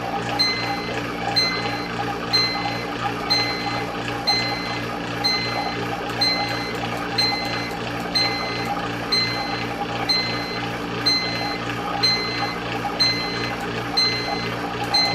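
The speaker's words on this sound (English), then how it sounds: "so as soon as it goes 4 degrees past its set point temperature, the alarm will go off" A programmable temperature controller sounds its over-temperature alarm, repeating short high beeps at a steady rhythm for the whole stretch over a constant background hum, with no talking.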